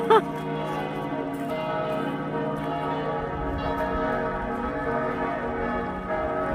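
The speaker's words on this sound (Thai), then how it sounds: "เสียงระฆัง" A church bell rings with a sustained, resonant metallic hum, its rich overtones lingering steadily after an initial strike, heard at moderate volume.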